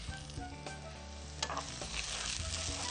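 Chopped tomatoes being stirred and mixed in a bowl in a cooking-show kitchen, a soft, close, continuous wet squelching and scraping with small clicks, heard alone without talk.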